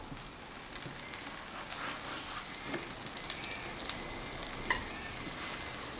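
A stuffed flatbread (xianbing) with a thin wrapper and generous filling sizzles steadily in a covered pan, a continuous frying hiss with small crackling pops throughout and no voices.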